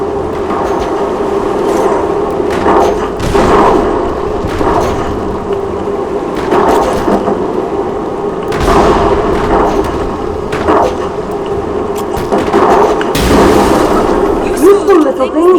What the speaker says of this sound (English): These bombs. Just try to stay clear of the blast.